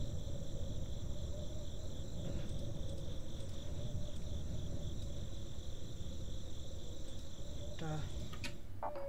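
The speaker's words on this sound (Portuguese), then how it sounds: "Grilos fantasmas. O fantasma de algum grilo." Ghost crickets chirp in The Darkside Detective video game as a steady, continuous high trill over a dense background, with a few faint clicks near the end.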